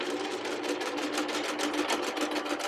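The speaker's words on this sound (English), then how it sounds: "I'm going to start right here and then backstitch and sew forward a" A sewing machine stitches a seam on denim jeans, its needle chattering in a fast, steady, even rhythm, close and continuous with no talking.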